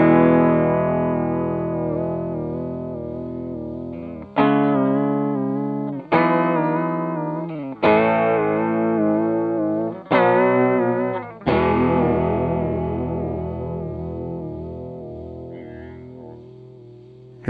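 A Chase Bliss Audio Warped Vinyl pedal set to its warp vibrato bends sustained guitar chords, each of about seven strums wavering in pitch, speeding up and then slowing, loud and alone with no talking.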